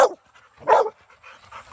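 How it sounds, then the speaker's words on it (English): An American Staffordshire bully dog gives two short, gruff barks about half a second apart, close and fairly loud, followed by a few faint softer yips. "My Staffordshire bullies."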